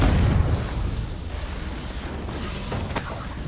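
A Confringo blasting-curse explosion in Hogwarts Legacy opens with a loud, low boom that fades into a rumbling tail, and a sharp crackle bursts in near the end.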